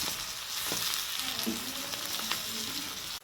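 Brain fry sizzling in a pan, a dense steady crackle of frying with faint stirring sounds, close and continuous, with no talking.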